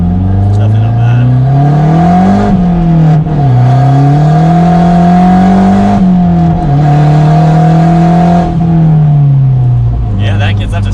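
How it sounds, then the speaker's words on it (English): Stock-turbo Mazda Speed3 accelerating hard, the engine note rising steadily through the gears with short dips at each shift, loud and close from inside the cabin. "that gets up to 60 really quick actually"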